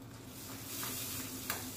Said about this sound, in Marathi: त्यामध्ये घाला या लाल मिरच्या